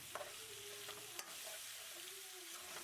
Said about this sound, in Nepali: अब म यसमा चिकन राखेर चिकनलाई राम्ररी ग्रेभीसँग मिक्स गर्दै छु।